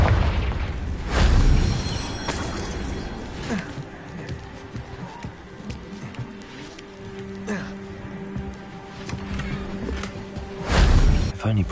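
Confringo blasting spells erupt in Hogwarts Legacy: two heavy, close booms, one early and one near the end, with a busy rumbling, crackling game soundscape in between.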